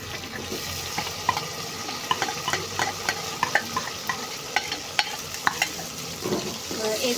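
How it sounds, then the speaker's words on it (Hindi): Koftas fry in a pan while masala paste is stirred, with a constant sizzle under scattered clinks and scrapes of a spoon against the pan. "एक तरफ हमारे कोफ्ते जो है वो फ्राई हो रहे हैं"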